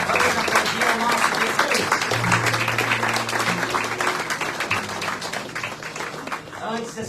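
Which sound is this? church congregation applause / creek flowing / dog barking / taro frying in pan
church congregation applause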